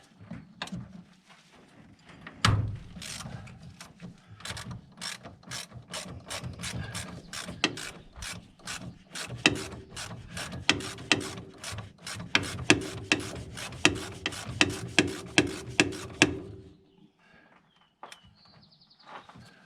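A ratchet wrench clicks rapidly in long runs while undoing a nut on the brakes of a C20 truck, close and fairly loud, with a dense burst of strokes before it falls quiet near the end.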